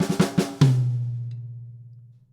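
Drum fill on snare and high tom with grace notes, a few quick strokes with flams followed by a ringing tom hit that decays slowly, played alone and close.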